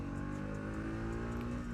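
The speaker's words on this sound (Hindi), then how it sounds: "right now I'm riding NS200 FI version BS6 2020." A 2020 Bajaj Pulsar NS200 FI BS6 motorcycle engine drones steadily while being ridden, a loud, continuous, even hum with no pauses and no voices.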